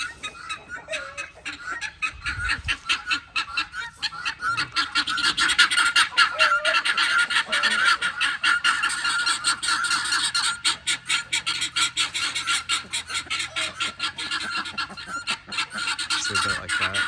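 Ducks honk loudly and continuously around a 1924 Model T Touring under repair, their harsh, overlapping calls close and constant.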